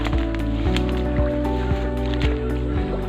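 Footsteps wade through water in a flooded rice field, each step a close wet squelch and splash at an irregular walking pace over a steady low drone.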